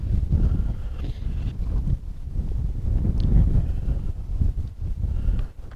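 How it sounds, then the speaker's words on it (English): Strong gusts buffet a camera microphone outdoors beside a military airstrip, giving a continuous loud low rumble that swells and dips throughout with no clear speech. "It is windy as hell out here."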